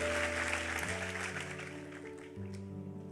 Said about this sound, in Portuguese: Aplauda ele, vamos ficar em pé